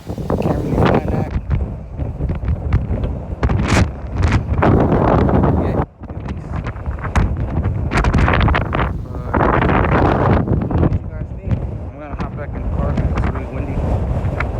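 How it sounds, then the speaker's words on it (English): Strong gusty wind buffets the microphone around a 1999–2004 Ford Mustang, roaring and booming loudly in uneven bursts, nearly drowning out someone talking underneath. "it's pretty windy out there, pretty cold"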